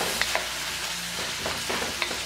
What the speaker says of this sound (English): Give a nice quick stir.